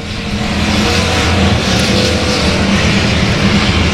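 A race car passes along the front stretch of a track, a loud, sustained engine roar mixed with broad noise, steady throughout with no voices.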